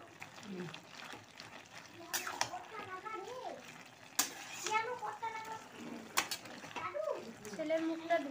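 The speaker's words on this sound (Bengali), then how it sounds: "ছেলের মুখটা ধুয়ে দিলাম" Water splashes and trickles in short bursts as a small boy's face gets washed at home, with his chattering voice and light clinks of dishes close by.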